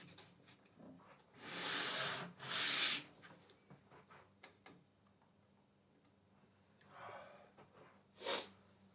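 Hand sanding of a custom guitar body with 80-grit sandpaper in a luthier's workshop, two loud rasping strokes near the start, then quieter scraping and a few sharp ticks, with another short burst of rubbing near the end.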